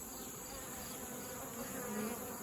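Dense, steady droning hum of many honeybees buzzing around beehives, close and continuous with no voices.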